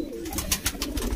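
A pigeon in a loft gives a short run of soft, close coos against a low background hum.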